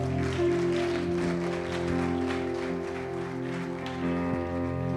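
A church congregation claps to God beneath sustained organ or keyboard chords, with the applause as a moderate, continuous patter behind the music.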